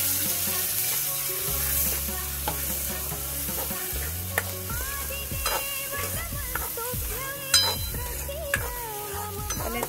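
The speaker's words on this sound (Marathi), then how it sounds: "तेल सुटेपर्यंत तळून घेते चांगला मसाला तेलामध्ये." Spice masala fries in hot oil with a steady, close sizzle for about ten seconds, broken by stirring scrapes and a few sharper clinks.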